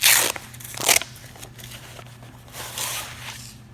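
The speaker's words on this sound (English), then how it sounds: "It's got a really smooth operating zipper opening there" Zipper on an SKD D-Fender armor carrier pulled open: two quick bright rasping zips, then softer fabric rustle and a longer, gentler zip pull, close and fairly quiet.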